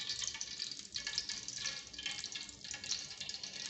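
Used cooking oil from frying kelewele, a Ghanaian plantain dish, pours into a pan with a faint, continuous trickling splash and some brief spattering, quiet and alone with no talking.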